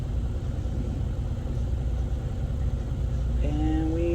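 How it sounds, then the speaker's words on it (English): Boat engines, freshly started, idle at an anchorage on Currituck Sound, North Carolina, a low, steady rumble close by. Near the end, higher tonal whines rise over the drone. "just started the engines"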